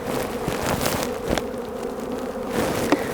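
Honey bees swarm and drone steadily around an open beehive during a spring hive inspection, a close, continuous buzzing with a few sharper bursts as bees fly near.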